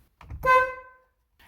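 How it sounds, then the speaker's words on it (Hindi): A repaired car horn, reinstalled after a strip fix, gives a single loud honk of under a second after some handling clatter, then falls silent. "एक दफ़ा हम हॉर्न बजा के भी देख लेते हैं"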